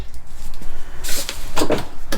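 A medicine cabinet in the bathroom of a 2024 Alliance 370FB RV opens with a couple of close, short clacks and rattles over a quiet room.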